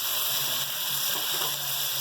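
Steady, loud sizzling and crackling from a hot pan as water hits frying spices for beef kofta curry, a continuous bright hiss without pauses.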